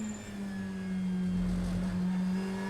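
Onboard a Ferrari 488 GT3 race car during an overtake, the engine holds a steady, even drone with a firm low tone throughout.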